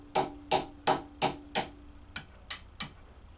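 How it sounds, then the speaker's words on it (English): A hammer taps a nylon nut on a 1956 Gibson ES-125 guitar in eight sharp, close, evenly spaced knocks, the later ones a little softer, over a faint mains hum. "This is a nylon nut. I'm going to hit it with a hammer."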